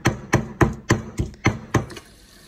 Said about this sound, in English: you just start mixing or crushing everything up together like this